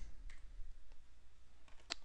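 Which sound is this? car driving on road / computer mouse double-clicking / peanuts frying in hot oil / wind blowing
computer mouse double-clicking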